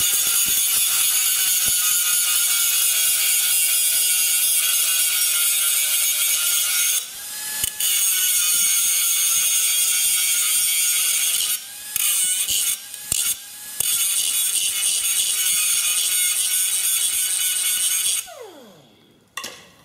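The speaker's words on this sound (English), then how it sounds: "I'm gonna grind this with the wizard wheel." A wizard wheel abrasive disc grinds down metal lawn mower deck engagement parts, a loud continuous high grinding whine that holds steady for most of the clip with a few brief breaks, then drops away near the end.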